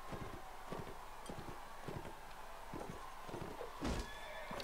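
Horse sounds from the medieval combat game Mount & Blade: Warband: a run of steady hoof clip-clops with a short whinny near the end, set against a constant background hiss.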